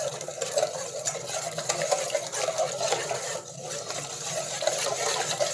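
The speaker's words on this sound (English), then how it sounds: "And then just take a whisk and just gently mix it up." A whisk gently stirs lime juice into a salad dressing, a steady soft swishing and tapping that repeats evenly and sounds close by, with no talking.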